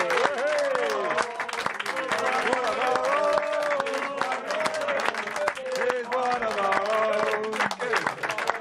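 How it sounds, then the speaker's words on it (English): An audience claps steadily through a round of applause at the end of a guest segment on a TV pitch show, with a tonal, musical layer and some voices running over the clapping the whole time. "Give a big round of applause, everybody"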